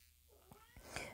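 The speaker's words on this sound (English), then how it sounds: "So my cat was just meowing for the door." A house cat meowing at a door, a couple of short faint calls followed by a louder, rising meow near the end, heard alone with no talking.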